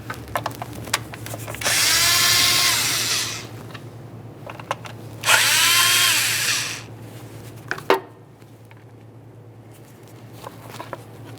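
A handheld power tool whirs in two close bursts of a few seconds each, winding up and down as it backs out a pair of 7mm bolts from a plastic cover on a Ford Ranger engine, with small clicks and clanks between.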